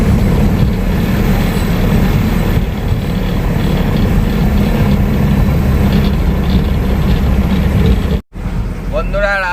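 A goods truck's engine runs steadily and loudly, a dense low diesel rumble that continues almost unbroken apart from one brief dropout near the end.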